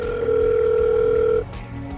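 A steady telephone tone from a phone used to call a number, loud and continuous for about a second and a half before cutting off, then followed by a quieter low tone with no talking.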